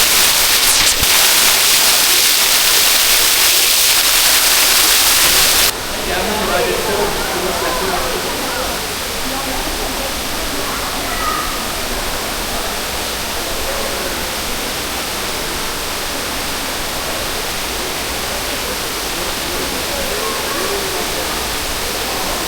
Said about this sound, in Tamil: தண்ணி அப்படி வடிஞ்ச சத்தம்.